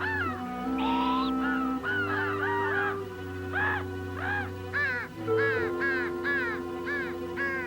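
Crows caw harshly and repeatedly, close by, in a steady series of calls from tangled branches, over a sustained low musical drone.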